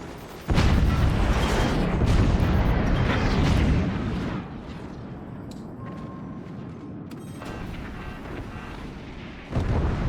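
Artillery and explosions in the strategy game Forts, with howitzers among the weapons: a loud, rumbling barrage of booms for several seconds, then softer distant blasts and crackle, and a fresh burst at the end.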